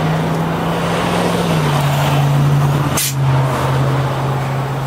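A semi-truck pulls away on a road: a loud, steady engine drone with a low hum that dips slightly in pitch, plus a sharp brief hiss or burst midway.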